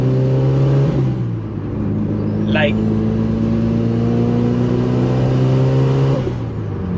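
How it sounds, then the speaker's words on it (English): Mitsubishi Evo fitted with a Tomei exhaust idling and revving with a steady, loud droning note, rising briefly partway through, with a voice speaking over it. "I love the exhaust sound from the Tomei coming."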